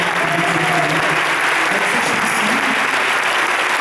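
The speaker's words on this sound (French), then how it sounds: "Donc on peut applaudir encore une fois très très fort." A concert crowd at the Casino Toulouse applauds loudly and steadily throughout, with a thick continuous wash of clapping and no pauses.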